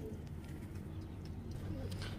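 A pigeon coos softly and low, nearby, in a steady murmur while someone moves to shoo it off.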